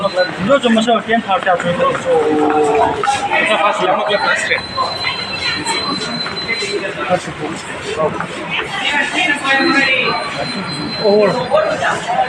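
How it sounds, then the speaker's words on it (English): A Chennai metro train pulls into a station platform with rolling, screeching wheel noise under a busy crowd of chattering passengers and a platform announcement. "Next train to St. Thomas Mount Metro is arriving on platform 1."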